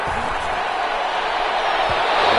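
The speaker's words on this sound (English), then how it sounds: "Some applause for the defense there." A stadium crowd in an American football video game applauds after a defensive stop forces an incompletion, a broad continuous wash of cheering and clapping at steady loudness with a brief slam-like thud amid the noise.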